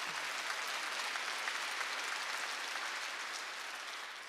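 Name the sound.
congregation applauding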